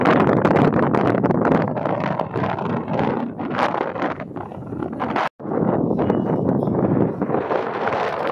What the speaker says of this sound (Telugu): దానికి తగ్గట్టు గాలి వస్తుంది.